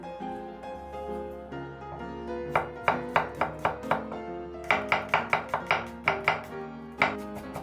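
A knife chops green laver (seaweed) on a cutting board, a quick run of sharp, close knocks in short bursts with brief pauses between them, over a faint steady hum.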